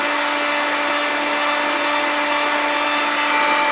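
A cheap heat gun blows hot air onto freshly cut plastic, giving a loud, steady whirring hiss with a faint tonal hum that holds unchanged throughout.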